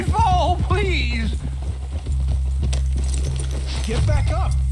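Horse hooves clip-clop in Red Dead Redemption 2, a steady rhythmic plodding under a low droning background while voices talk over it.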